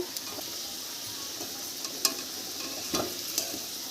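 Rice frying in a pan for chicken fried rice, stirred briefly: a low steady sizzle with a few scraping strokes and light clinks of the spoon, close and without talk.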